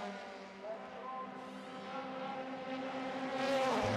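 Several open-wheel race cars at Monza, their high engine whines layered and rising in pitch as they pass close and loud in a slipstream pack, a steady continuous roar with shifting tones.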